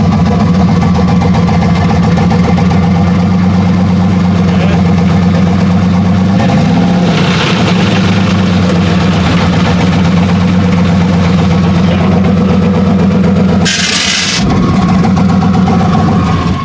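A car engine idles steadily and loudly up close with a low, even drone, with one brief clanking burst near the end and no talking.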